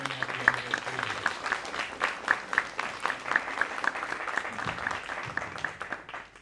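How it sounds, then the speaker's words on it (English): Audience applause at a school reclassification ceremony for a retiring teacher, steady mid-level clapping from a crowd lasting throughout, with faint voices beneath. "Please let's give him a round of applause as he is retiring at the end of his career."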